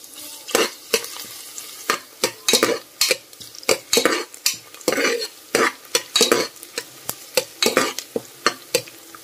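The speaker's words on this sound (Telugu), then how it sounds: "సో ఇవి కొంచెం గోల్డెన్ బ్రౌన్ కలర్ వచ్చే వరకు ఫ్రై చేసుకోవాలి." Onions and four green chillies fry in ghee and oil while a spoon stirs them in steady, repeated scrapes against the pan over a soft sizzle, close and fairly loud, with no voices.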